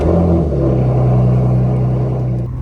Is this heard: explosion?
no